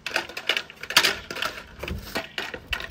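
A Fiberon Weatherables composite deck post cover being cut, with a rapid series of sharp cracking snaps and ticks, close and irregular, with no voices.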